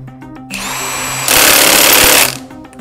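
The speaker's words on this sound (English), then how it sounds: "we're going to start with the impact with a dry bolt and a normal assembly" An Atlas Copco impact wrench hammers a dry bolt tight on a normal assembly: a steady motor whir, then a loud, dense rattling burst of impacts lasting about a second before it stops, close and with no voices.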